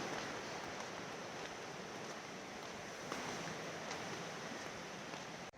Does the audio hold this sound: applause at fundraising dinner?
no